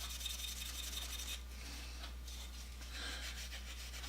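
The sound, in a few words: triple-aught steel wool rubbed over a plane's wooden surface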